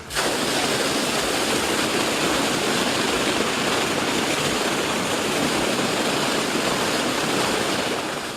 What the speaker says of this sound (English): The well initially pumps to the blow-off for a few minutes just to remove any fine material that may be in the water